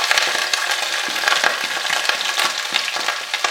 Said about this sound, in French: et je vais le mélanger gentiment pour commencer à l'imbiber de mon huile d'olive